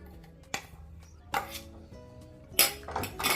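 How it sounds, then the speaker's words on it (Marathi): Soaked fenugreek being mixed and roasted with wheat flour in a pan, heard as a few sharp scraping and clanking strokes of a utensil against the pan, spaced apart over a quiet background. "आणि छान मिक्स करून परतून घेते"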